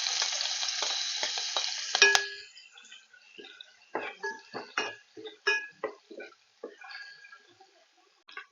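Chilli and garlic paste hitting hot oil with cumin already crackling in the pan, shown as a loud sizzle that stops sharply after two seconds with a clang, then scattered stirring scrapes and drips.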